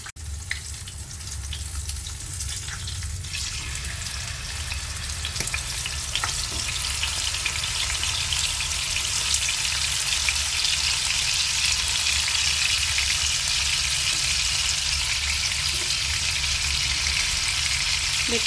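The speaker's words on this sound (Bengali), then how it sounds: "দেখতে পাচ্ছ মাছগুলো আমি এক এক করে ভাজার জন্য দিয়ে দিলাম।" Bele fish sizzling in hot oil in a frying pan, a steady close crackling hiss that swells slightly as more fish are laid in and then holds at an even level throughout.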